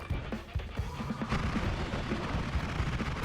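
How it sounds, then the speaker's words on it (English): Dense, continuous crackling blasts and rumbling explosions in the game Noita, a busy barrage of thuds and crashes that fills the whole stretch without talk. "That explosion looks a little bit less colorful than the ones that we're having."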